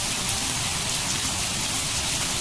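Heavy rain pours down at night in a forest, a dense, steady, loud hiss with no pauses, no voices and no other sounds standing out.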